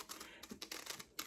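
Scissors snip through layered wool felt with double-sided fusible and a paper pattern, giving a series of short, crisp cuts with brief pauses between them, close and fairly quiet.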